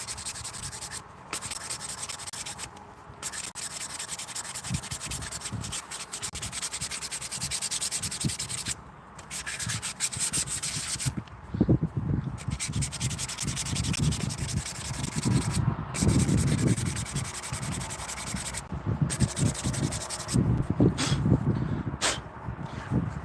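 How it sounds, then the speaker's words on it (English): Wood being sanded by hand, long rough scratchy strokes rubbing back and forth in an irregular rhythm with brief pauses between passes, close and steady, with no talk. "All the sanding though sucks."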